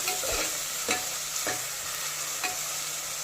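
Curry leaves and other pieces fried until golden in a pan, with a continuous sizzle and a few sharp spoon scrapes and stirs at irregular intervals, close and alone.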